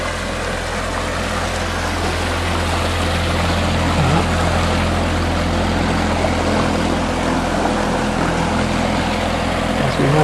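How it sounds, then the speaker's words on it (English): A boat passing on the Bristol Avon, its engine a steady low droning hum that holds evenly throughout, loud and close, with no clear voices over it. "Sounds like there's a boat coming up"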